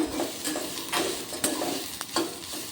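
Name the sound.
stirring mash ingredients frying in a pan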